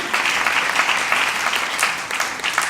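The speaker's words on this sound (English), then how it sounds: "Let's clap hands for him" An audience at a live Ignite talk claps steadily for nearly three seconds, a dense, even wash of many hands with no voices over it.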